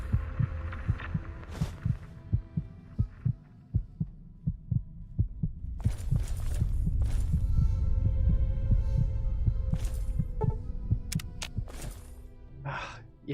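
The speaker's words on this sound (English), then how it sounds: "Can no longer hear my own heartbeat." A heartbeat from the video game Fallout 3 thumps in a steady, low, close rhythm of paired beats, continuing over a rising hum and breathy swells, with no talk.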